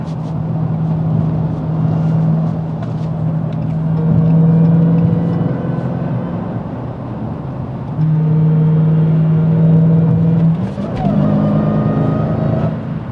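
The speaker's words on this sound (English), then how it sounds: "A Lamborghini Urus coming up." A Lamborghini Urus SUV engine hums loudly nearby, rising and falling as it revs and accelerates past, with a second surge of engine noise near the end.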